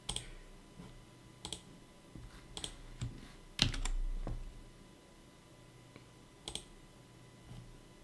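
Sparse keystrokes on a computer keyboard as a passphrase is typed in, a handful of distinct clicks with short pauses between them, close and fairly quiet in a still room.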